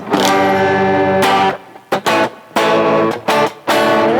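A distorted electric guitar is strummed in loud, ringing chords separated by short gaps, with harsh clashing tones.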